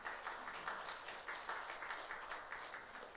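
Congregation applauding during a Sunday service at the Yonsei University Wonju College of Medicine church: a steady, dense patter of many hands clapping that swells in small waves and continues throughout without a break.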